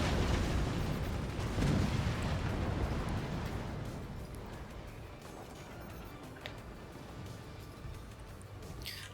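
Heavy cannon fire in the Forts real-time strategy game, a dense rumbling barrage of booms and blasts that stays loud, then eases slightly while continuing steadily throughout, with no talk.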